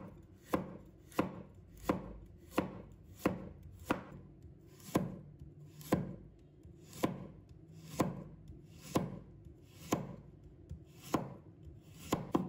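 A knife chops a carrot into slices on a cutting board, a steady run of about sixteen evenly spaced, crisp thuds, close and fairly quiet, with no talk.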